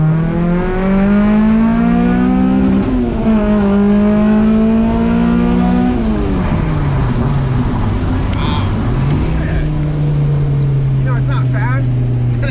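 A 1994 Acura Integra RS accelerating hard through several gears, its engine climbing in pitch, dropping at each shift and climbing again, loud and close from inside the car, with people talking over it.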